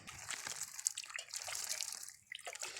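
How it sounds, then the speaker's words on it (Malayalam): Water splashes and trickles steadily onto the soil of a freshly potted begonia during a light watering, with soft dripping and sloshing throughout and a brief pause near the end. "നമുക്ക് ലൈറ്റായിട്ടൊന്ന് നനച്ചുകൂടെ കൊടുക്കണം ഈ ഒരു പ്ലാന്റ്"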